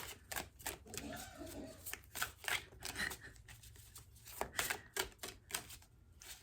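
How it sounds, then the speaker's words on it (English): Playing cards are shuffled by hand at close range in quick irregular bursts of riffling and snapping, with faint voices in the background. "I don't know why I'm still shuffling."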